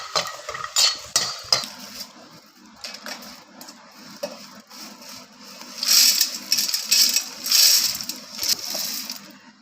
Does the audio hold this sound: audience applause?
no